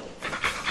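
A dog pants in quick, breathy bursts, close and fairly loud, with no talk over it.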